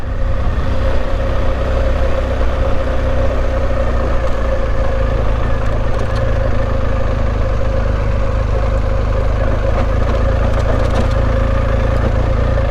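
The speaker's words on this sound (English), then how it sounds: "I'm very glad for the torque of this engine." A car engine drones loudly and steadily while the car drives on sand on the Gifberg and Gannaga pass route, a continuous, unbroken rumble with no talking.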